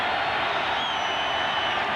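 Stadium crowd at a 1990 Seahawks at Broncos NFL football game, a loud, steady roar of cheering and pounding that sustains without a break, with a whistle-like tone rising above the noise.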